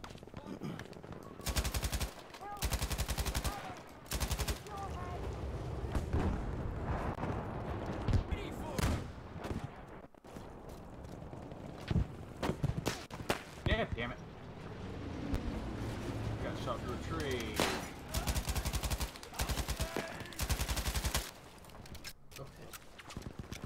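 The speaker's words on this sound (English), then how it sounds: "She's using the MG." Rapid machine-gun bursts from an MG in a World War II–style video game, loud and close, firing in repeated long and short volleys with brief pauses, alongside other gunfire and players talking over it.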